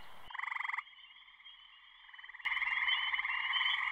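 A gray tree frog gives loud trilled calls, close and clear: a short pulsing trill, a pause with a softer sustained tone, then a longer, stronger trill running to the end.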